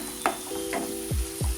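A spoon scrapes and stirs garam masala loosened with a little water in a pan, giving a few rhythmic strokes over a steady close sizzle, with no talking.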